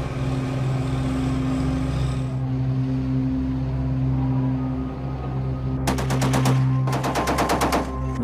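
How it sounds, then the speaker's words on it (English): A .50 caliber heavy machine gun on an AAV amphibious assault vehicle fires two loud, rapid bursts near the end, over a steady low engine drone. "With a 50 caliber heavy machine gun and a Mark 19 automatic grenade launcher, it offers an amphibious capability with devastating firepower."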